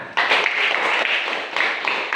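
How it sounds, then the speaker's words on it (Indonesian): Classroom of pupils clapping hands together in a near, dense burst of applause lasting a couple of seconds, with slight swells in the middle and toward the end, indoors during a lesson. "Ya, tepuk tangan."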